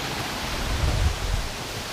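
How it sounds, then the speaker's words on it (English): A stream of running water in the wooded Luxulyan Valley, a steady broadband rush with a soft low churn that stays close and fairly even throughout. "we have a stream of water here"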